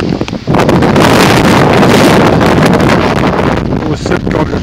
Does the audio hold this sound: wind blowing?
yes